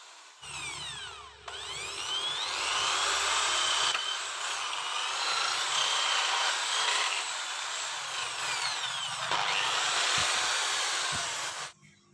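A power drill bores holes through a light steel plate while making a TV bracket, giving a continuous high whine that starts, holds steady for about ten seconds and then cuts off abruptly, close and loud.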